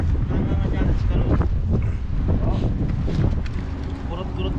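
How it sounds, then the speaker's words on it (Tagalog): Strong wind at sea buffets the microphone aboard a small fishing boat, a loud, rumbling gusty roar that swells and eases unevenly throughout. "Mahangin po kasi sa taas."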